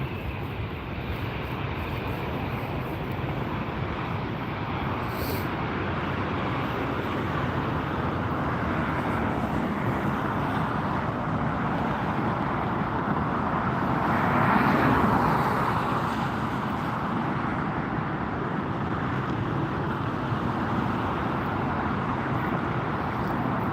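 Allegiant airliner turning onto the runway for takeoff at LAX, a continuous broad jet engine roar heard from a distance that swells briefly midway, with no voices.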